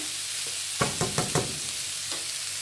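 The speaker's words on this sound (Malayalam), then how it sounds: "നാല് സവോള ചെറുതായിട്ട് അരിഞ്ഞത് ഒന്ന് മൂപ്പിച്ചെടുക്കാൻ പോവാം" Chopped onions sautéing in a pan, a steady soft sizzle punctuated by a quick run of four knocks and stirring scrapes, then one more tap.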